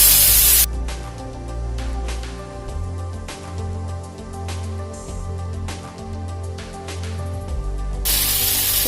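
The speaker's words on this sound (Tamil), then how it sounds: "நம்ம இப்ப அவல் ராகி தோசை நம்ம ஊத்திக்கலாம்" Aval ragi dosa batter, made with red aval, sizzles on a lightly oiled pan with a steady, loud, broadband hiss that holds for several seconds before briefly flaring at the end.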